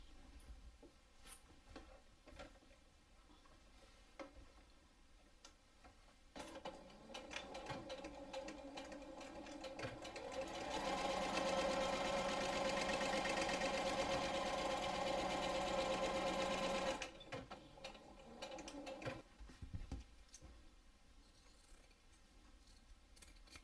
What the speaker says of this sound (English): sew across both sides.